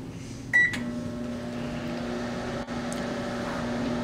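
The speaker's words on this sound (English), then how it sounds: "we put a CD in the microwave" A microwave oven hums steadily with a CD inside, a loud continuous drone that starts with a click and beep and runs on without talk.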